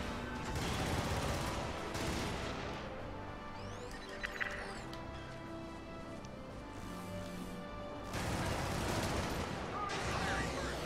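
Rapid automatic gunfire from the game Helldivers comes in dense bursts, loudest at the start and end with a quieter stretch between, plus scattered sci-fi effects.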